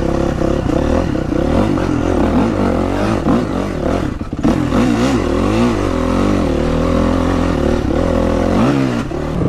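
Honda CRF450 dirt bike on a trail at an off-highway vehicle park, engine running loud and close with repeated revving and pitch swings, a brief dip midway, and clattering mechanical noise throughout.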